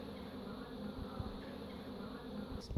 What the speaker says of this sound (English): It's just the bees doing their orientation flights.